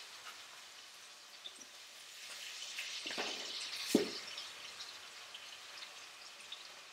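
Beef for tinaktak browns in a pan with a soft, steady sizzle and crackle, fairly quiet, swelling briefly as the meat is stirred.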